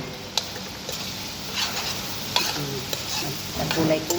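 Turmeric powder stirred into a dish in a pan, a steady soft sizzle with scraping strokes and a few sharp spoon clicks against the metal, close and moderately loud.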